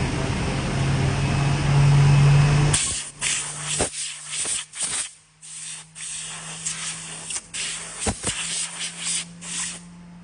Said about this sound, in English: So you should brush, and you should use air blower to clean it.